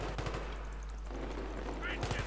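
Automatic gunfire in the shooter game Battlefield 3, short rapid bursts at the start and again at the end with a quieter stretch between, under faint game background.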